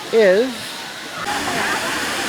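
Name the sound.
waterfall at Ithaca's Lower Falls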